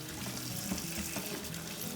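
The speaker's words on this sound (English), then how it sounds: "Gotta wash my berries." Tap water runs steadily over fresh strawberries being rinsed in a kitchen sink, a close, continuous splashing stream with small bursts of spatter, heard alone without voices.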